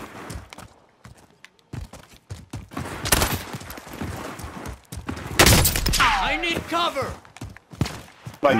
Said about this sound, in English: Hey, I'm trying to move, but I'm getting shot at.